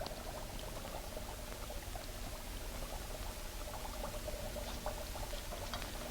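A liquid chemical is poured in a 1940s radio-serial scene, giving a faint, continuous bubbling trickle that runs steadily for about six seconds under a low, hissy background, with no voices.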